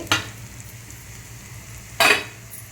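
Cumin seeds and onions frying in a pan, a soft steady sizzle broken by two short scraping stirs about two seconds apart, close and moderately quiet, with no voices.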